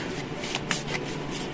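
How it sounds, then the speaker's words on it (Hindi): Tarot cards being drawn from a deck, a soft brief shuffle and slide of card stock, faint and close, with light papery rustles and no talk. "तो टैरो में से 5 कार्ड लेने वाले हैं हम और ओरेकल में से 10 कार्ड।"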